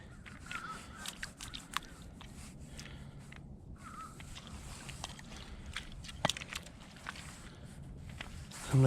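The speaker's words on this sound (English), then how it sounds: "Crows are laughing at me." Crows cawing outdoors near a large chain being hauled from water, harsh calls scattered through the scene amid footsteps and splashing, moderately distant and not loud, with no speech.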